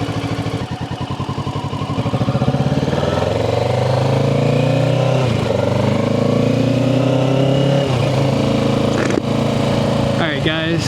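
A 2025 Kawasaki Ninja 650 ABS motorcycle riding through a neighborhood, the engine revving up and shifting through gears with rising and falling pitch, loud and close with wind noise.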